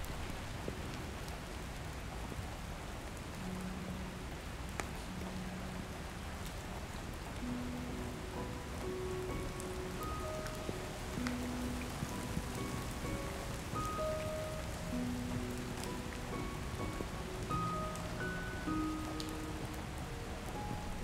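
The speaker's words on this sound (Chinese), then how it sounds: "下雨了" Steady rain falls throughout, a dense even patter on surfaces with a soft melodic tone playing faintly underneath.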